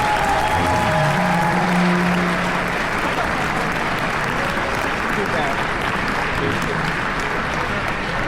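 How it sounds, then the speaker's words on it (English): Audience applause at a Tuba Christmas concert in Chicago, a full, sustained round of clapping from a large crowd, loud and even across several seconds, with brief voices near the start. "Can we hear a round of applause for that?"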